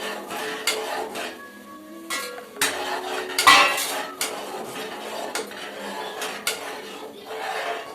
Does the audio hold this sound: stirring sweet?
yes